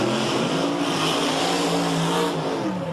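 Drag racing cars idle at the start line with engines fired, ready to launch on a concrete strip, producing a loud, steady, rumbling engine drone.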